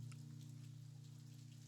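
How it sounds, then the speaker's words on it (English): Rain falls in a video game scene, a soft, faint patter of scattered drops over a steady low hum, brief and without voices. "I guess it's going to rain after all."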